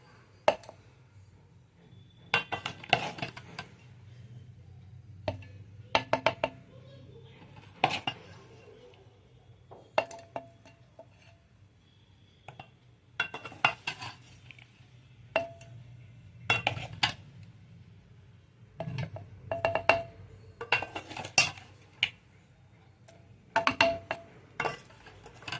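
In a home kitchen making gutti vankaya curry, a cooled ground mixture is tipped into a mixer jar, giving a series of sharp clinks and scrapes of steel and glass that come in irregular bursts against quiet pauses.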